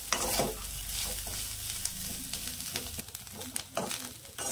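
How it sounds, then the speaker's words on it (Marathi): Grated coconut is stirred and scraped around a hot iron wok with oil, rhythmic scratchy strokes over a constant sizzle, close and fairly loud. "लोखंडाची कढई आहे बघा खोबरं आहे ना भाजताना खाली चिकटतंय"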